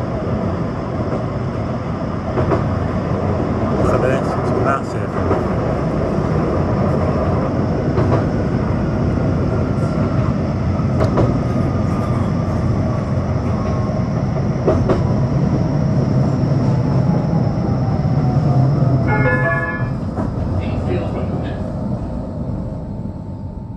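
A tram runs on rails between Fleetwood and Blackpool, a steady loud rumble heard from on board, with clickety-clack over rail joints and brief wheel squeal near the end.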